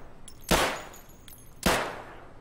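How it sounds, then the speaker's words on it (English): Two loud gunshots from the shooter game Escape from Tarkov, a little over a second apart, each a sharp crack with a decaying tail over a low background, no talking. "I just wasted 3 bullets on that guy."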